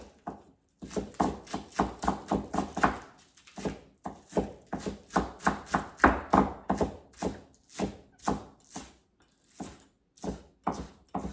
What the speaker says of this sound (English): Go ahead to chop those green onions into small pieces